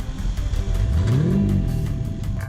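A Jaguar E-Type Series 3 V12 engine revs up and eases off in one smooth sweep, its deep quadruple-exhaust note loud and close, with a steady mechanical whir underneath.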